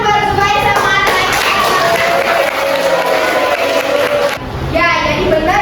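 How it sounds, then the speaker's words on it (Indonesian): Students in a classroom applaud two classmates, loud close clapping mixed with children's voices and chatter that drops briefly then picks up again. "Kita beri tepuk tangan buat Zubair sama Ataya."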